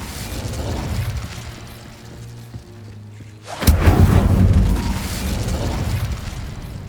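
Incendio fire spell cast in Hogwarts Legacy, a sudden loud burst that erupts after a brief lull and leaves a roaring, rumbling rush of flame trailing off over background music.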